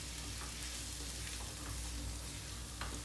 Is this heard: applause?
no